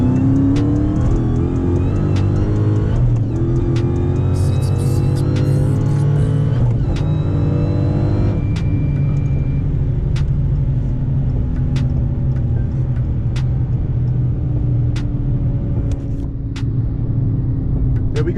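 A Dodge Hellcat pulls hard from 60 to 130 mph, its supercharged engine roaring loud and steady with rising pitch through gear changes, close and continuous with no talk.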